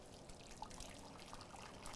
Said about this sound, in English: So I'm going to pour this in. This is just boiled water.